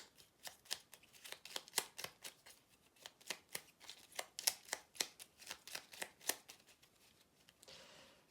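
Small oracle cards shuffled by hand, a steady run of crisp riffling flicks repeating for several seconds, close and fairly quiet, with no talking.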